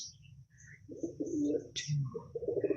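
Pigeons coo in low, repeated throaty phrases close by while a female pigeon is handled, with faint chirps and soft rustling around them.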